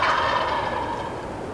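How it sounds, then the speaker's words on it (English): Wild turkey gobblers on a Michigan hunt give a loud, close, rattling gobble that fills the brief moment alone, with no voices. "They stayed in this spot strutting and gobbling for probably 15 minutes or so."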